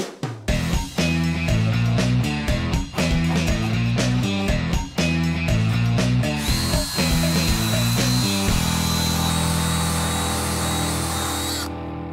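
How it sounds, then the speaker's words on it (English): A wire brush on a power tool cleans the spot welds on the fender apron of a 1965 Mustang, a loud harsh whirring that rises and drops in bursts before settling into one steady high whine. "I'm going to go ahead and hit it with a wire brush just to clean it up so we can see where the spot welds are."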